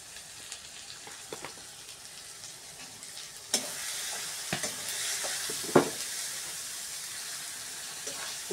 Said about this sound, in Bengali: সুন্দর করে একটু নাড়াচাড়া করে মশলাটা একটু সুন্দর করে কষিয়ে নিতে হবে।